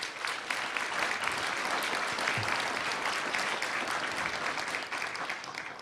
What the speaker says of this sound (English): Could we have a round of applause for the Home Depot Foundation?